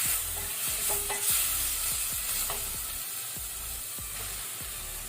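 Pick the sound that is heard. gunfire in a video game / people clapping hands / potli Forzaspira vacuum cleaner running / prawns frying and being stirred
prawns frying and being stirred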